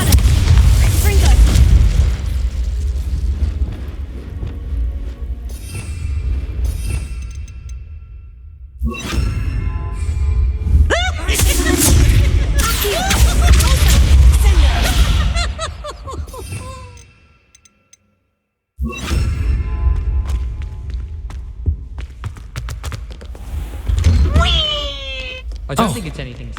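Fire spell cast in the video game Hogwarts Legacy, loud fiery booms and bursting whooshes in repeated waves with a brief silent gap, layered with game sound effects.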